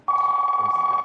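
A single steady electronic telephone ring tone lasting about a second, clear and close, alone without speech.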